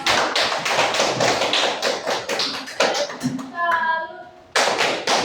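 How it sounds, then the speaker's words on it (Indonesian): An audience claps briskly for a student presentation group in a classroom, a dense patter of hands that breaks off briefly while a voice speaks, then resumes loud and close. "tepuk tangan dulu untuk kelompok"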